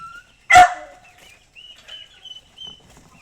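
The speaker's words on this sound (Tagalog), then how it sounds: "aso, si Dusty." A single sharp dog bark near the start, followed by quiet background with faint bird chirps and small rustling sounds.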